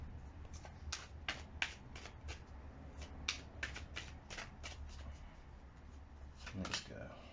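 Tarot cards being shuffled by hand, a quiet, close series of crisp riffling slaps and flicks in irregular bursts over low background hum.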